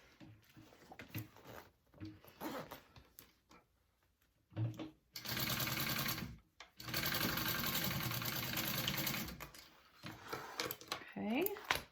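A sewing machine stitches a zipper pocket on a fabric wristlet in two sustained runs, loud and close, with speech in the quieter gaps before and after.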